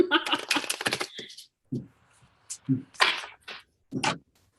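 A deck of tarot cards is shuffled in small chunks by hand, giving several short, sharp riffling bursts separated by brief pauses.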